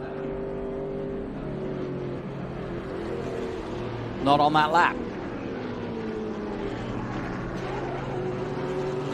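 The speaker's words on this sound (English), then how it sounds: "You can hear the car protesting underneath him." An IndyCar race car's engine strains steadily through a lap at Watkins Glen, a continuous distant drone running under a commentator's voice with a brief louder surge partway through.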